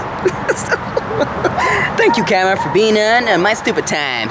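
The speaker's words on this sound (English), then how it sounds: "you can hear the dogs in the background" Dogs bark and yip in the background at an animal hospital while someone talks over them near the microphone.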